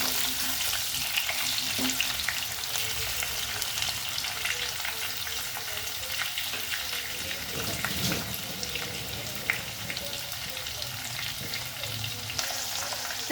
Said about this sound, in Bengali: আলুগুলো একটু লাল লাল করে ভেজে